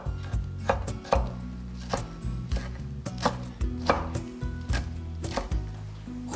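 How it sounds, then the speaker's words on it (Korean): Knife chopping shepherd's purse (naengi) greens into short pieces on a board, with repeated sharp, close thuds in an uneven steady rhythm and no voices. "2cm 간격으로 썰고"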